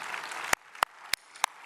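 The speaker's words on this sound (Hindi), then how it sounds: "मैं जोरदार तालियों के साथ स्वागत कीजिए श्री श्री रविशंकर जी का।" A few sharp, evenly spaced hand claps ring out at a formal event welcoming a spiritual leader, four distinct smacks over a faint background murmur.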